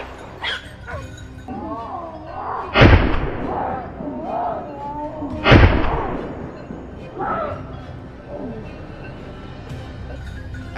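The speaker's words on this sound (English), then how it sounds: "With a thunderous gunshot," Two sharp, booming rifle shots are fired at a wild boar on a mountain slope, a few seconds apart. Hunting hounds yelp, whimper and bark nearby between and after the blasts.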